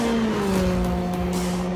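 A Porsche 919 Hybrid race car at about 280 km/h gives a loud, steady, high engine whine with sustained tonal drone, heard close from onboard, with no talk.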